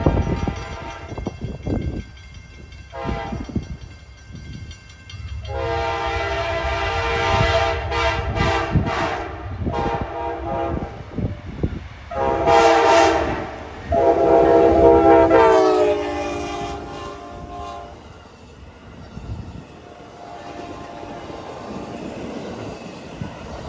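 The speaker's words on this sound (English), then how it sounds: "The first train of 2026 is going to be Amtrak PO41" Amtrak P041 passing through Auburndale City Park: approaching rumble, then repeated loud multi-tone horn blasts close by, followed by the heavy roar and rail clatter of the train going past and fading.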